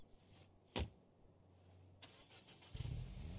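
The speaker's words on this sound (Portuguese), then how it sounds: "Eu vou com esse carro aqui, que ele é mais rápido." Car engine in State of Decay 2 cranks and starts after a door thud, then settles into a low, quiet idle, with no talking.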